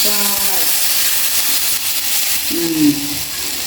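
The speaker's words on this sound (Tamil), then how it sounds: "இப்போ வந்து பால் நல்லபடியாக கொதிக்கட்டுமே" A steady sizzling hiss of milk simmering in a Jaffna-style fish curry pot, with brief voice-like murmurs near the start and end.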